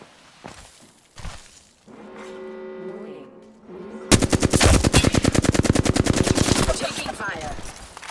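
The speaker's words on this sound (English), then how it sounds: "Bogey in sight. Opening fire." Apex Legends gunfire: after a stretch of tonal in-game sounds, a loud, rapid automatic burst of evenly spaced shots runs for about three seconds, close and dominant.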